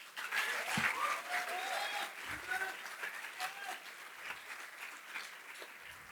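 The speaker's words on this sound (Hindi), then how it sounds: "Big round of applause for these amazing people." Audience applause at a university fest fills the hall, a dense sustained clapping that stays loud throughout and tapers slightly toward the end, with crowd voices and cheers mixed in.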